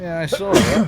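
A single short sneeze, close and fairly loud, followed straight away by a person talking.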